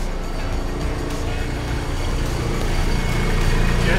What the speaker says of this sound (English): So we're starting the engine on the hard.